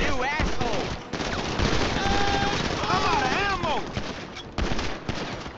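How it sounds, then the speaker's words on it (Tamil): Gunfire shooting zombies in GTA V, rapid bursts of shots in dense overlapping volleys under excited voices talking and shouting throughout. "சுடுங்க சுடுங்க சாம்பி சுடுங்க"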